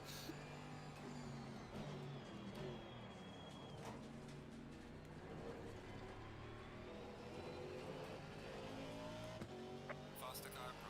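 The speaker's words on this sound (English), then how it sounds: "Faster car approaching." Race cars rumble around the Imola circuit during an SRO GT World Challenge America round, engine noise steady and fairly distant throughout, with people talking over it.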